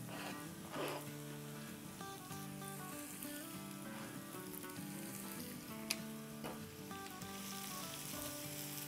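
Garlic, green chillies and the white part of spring onion frying in a hot pan give a steady, close sizzle with a dense crackle that runs throughout, under faint background music and no talk.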